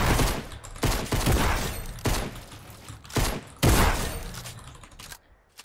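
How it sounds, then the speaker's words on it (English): Repeated loud gunshots from a Fortnite target-shooting course, a handful of booming blasts spaced about a second apart, each ringing out before the next, with no talk. "The next part we have to shoot the target, so we open, we shoot."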